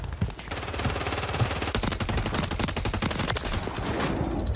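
Rapid automatic gunfire from a Holger 26 in the video game Warzone, loud and sustained bursts of close, crackling shots running nearly the whole time without pause.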